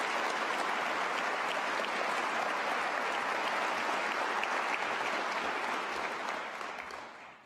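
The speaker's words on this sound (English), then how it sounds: "Let's give them a big round of applause." A large audience at a university convocation claps in steady, dense applause that holds for several seconds and then fades out toward the end.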